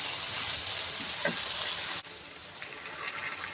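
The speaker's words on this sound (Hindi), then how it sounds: "इस तरह से चम्मच चलाते हुए हम इसे फ्राई कर लेंगे अरबी को।" Taro (arvi) frying in hot oil as a spoon stirs it, a steady dense sizzle with a faint scrape partway through, then a brief dip before the crackling resumes a little quieter.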